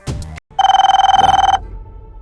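A single close burst of rapid telephone bell ringing lasts about a second after a brief clatter, then stops abruptly.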